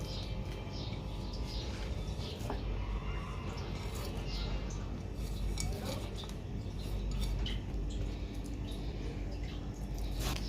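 Potatoes and gram flour are mixed by hand for pakora batter, moist squishing and light clinking against a bowl repeating through the whole stretch, with background kitchen noise.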